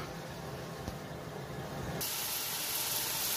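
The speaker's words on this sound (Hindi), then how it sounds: "अब इसको हम अच्छी तरह से भूनेंगे" Ginger, garlic and onion paste with coriander, chilli and salt roasting in a pan for Lucknowi chicken korma gives a steady, close hiss that grows louder and brighter partway through, with no voices.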